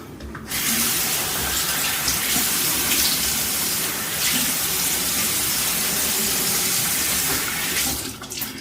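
Steady water gushing from a tap into a sink, close and loud, running continuously before cutting off at the end.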